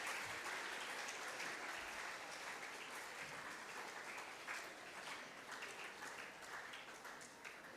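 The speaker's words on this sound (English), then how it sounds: "Let's all give a big clap and welcome Mrs. Sundari." Sustained audience applause greeting a guest speaker at a National Science Day school event, a dense steady wash of many hands clapping that fades slightly toward the end.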